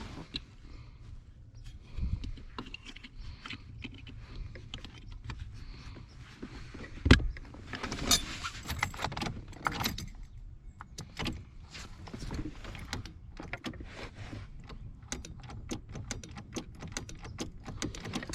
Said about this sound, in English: the relay's clicking, so it's definitely a fuel issue